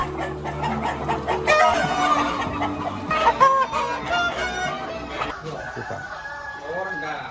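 Rooster crowing amid clucking free-range laying hens of a native village chicken flock kept for eggs, several birds calling close by and overlapping, with faint voices in the background.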